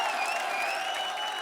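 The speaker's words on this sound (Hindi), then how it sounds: "खैर जोरदार तालियां इनके लिए" A studio audience at a comedy show claps warmly, a dense, continuous wash of applause heard alone without any talk.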